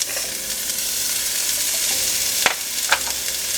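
Loud, steady sizzling of onion and garlic frying in a pan, with a couple of brief scraping stirs near the end.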